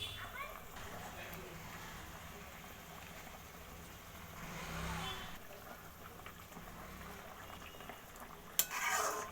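Katla fish pieces cook in a simmering kulekhara leaf curry, giving a steady bubbling sizzle and hiss with faint stirring, then a brief clatter near the end.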